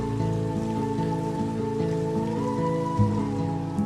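Steady rain falling, a soft even patter heard faintly beneath a sustained musical backing with a tonal melody, with a brief thump near the end.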